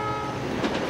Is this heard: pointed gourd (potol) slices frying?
no